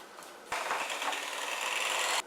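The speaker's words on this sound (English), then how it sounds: "I'm going to blend this with my mixer" An electric mixer whirs into keto pumpkin spice donut batter made with powdered sugar, starting abruptly after a quiet moment and holding a steady, close, buzzing hum until it cuts off.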